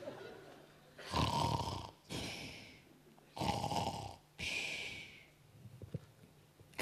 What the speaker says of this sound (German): Du schnarchst immer noch.